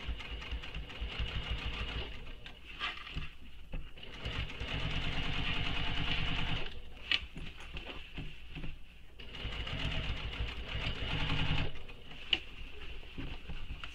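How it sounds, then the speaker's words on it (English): A sewing machine stitches a fabric tube for a shoulder bag, running in close, steady bursts of rapid stitching separated by short pauses, with no talk. "That's because this is a tube right now and we're sewing in a tube."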